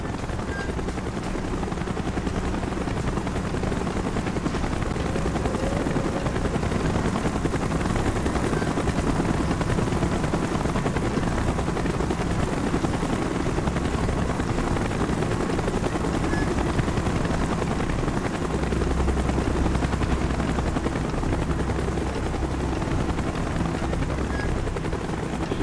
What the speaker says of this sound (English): Chopper's inbound.